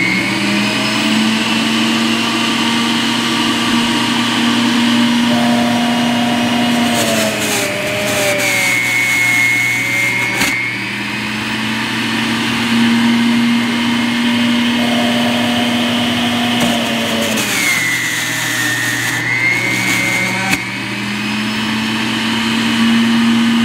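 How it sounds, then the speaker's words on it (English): A Breville JE98XL Juice Fountain Plus centrifugal juicer runs on its hard setting. Its motor gives a loud, steady whine and hum, with pitch dips at intervals as the load shifts. It carries on alone for the whole stretch. "I'm gonna turn it on the hard setting because I'm gonna be doing all hard fruits and vegetables today"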